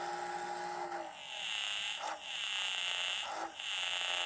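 Sound from a Fuji Cherry 3-inch tape recorder coming through its built-in amplifier: a steady, wavering tonal playback with warbling pitch and a few short dips, heard alone with no talk.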